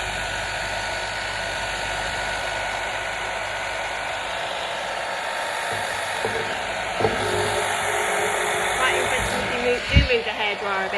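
Hair dryer blowing on acrylic pour paint mixed with pouring medium and cell medium on upcycled furniture; a continuous, close, steady whoosh with some handling clatter near the end.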